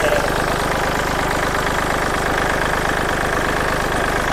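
A 2011 Kubota L3608 tractor's diesel engine idles nearby with a loud, even chugging rumble that holds steady throughout.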